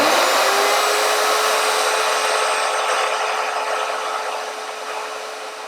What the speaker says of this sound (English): I'm going to turn the router on.